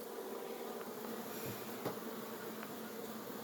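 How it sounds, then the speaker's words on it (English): Honeybees buzz busily at a hive, a continuous soft droning hum with a few brief louder passes, no voices. "You see the bees sticking the heads in."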